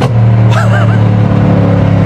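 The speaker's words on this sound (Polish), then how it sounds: "Lekkie dodanie gazu." 801-horsepower sleeper car engine given a light blip of throttle, a loud close rumbling idle with a brief rising rev that settles back.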